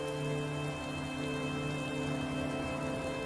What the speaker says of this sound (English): it's raining and the weather's miserable